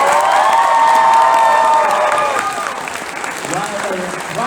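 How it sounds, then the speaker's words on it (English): Applause from a convention panel audience at Sakura Con, a loud sustained round of clapping mixed with some cheering from the crowd, tapering slightly toward the end. "let's get a big round of applause"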